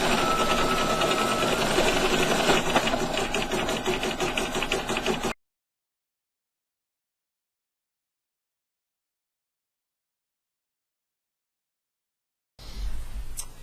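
An embroidery machine sews a satin stitch around the hair on an in-the-hoop corner bookmark, a fast steady mechanical chatter for about five seconds, then silence, then the stitching resumes briefly.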